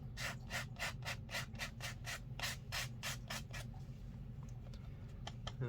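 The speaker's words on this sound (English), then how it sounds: "you can use the razor blade to scrape back to the white of the paper" A razor blade scraping across watercolor paper in quick, regular strokes, about a dozen crisp rasps in steady rhythm close up, then a pause and a few lighter scrapes, with no talking.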